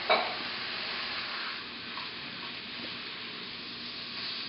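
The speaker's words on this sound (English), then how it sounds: "We're going to start to add the pre-chopped" Pre-chopped sausage for a sausage ragu sizzles steadily in a hot pan, a soft, even crackle with a brief louder burst at the start and no voices.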